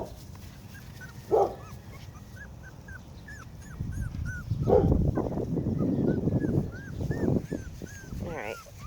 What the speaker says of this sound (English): my gosh, puppies.